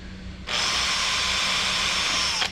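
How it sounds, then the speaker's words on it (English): A power drill bores into a subwoofer box in one steady, loud, high-pitched whir lasting about two seconds, starting abruptly and cutting off at the end, close up with no talking. "Get these marked up and drilled, get the holes put"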